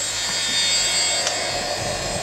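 A VFD spindle motor on a CNC machine spins near 10,000 rpm, giving a steady high-pitched whine with a faint buzzing undertone, continuous and close throughout.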